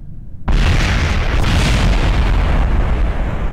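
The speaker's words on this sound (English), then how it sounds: "Nice big explosion" A huge rocket explosion in the video game Kerbal Space Program, bursting in suddenly after a quiet moment and roaring on as a loud, sustained rumbling blast.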